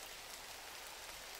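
Steady, dense rain hiss in the video game GRIS, a soft continuous wash of falling drops heard alone with no voices, even in level throughout.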